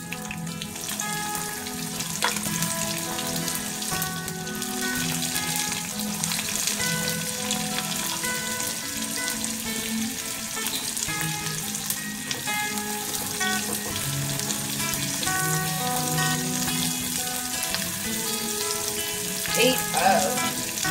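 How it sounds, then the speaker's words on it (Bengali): Onions hiss and crackle as they fry in hot oil in a new wok for beresta, a dense, loud, steady sizzle that lasts throughout with occasional soft scrapes. No one speaks. "এবারে আমি বেরেস্তাগুলো আগে করে নেব। এই পেঁয়াজ দিয়ে দিচ্ছি"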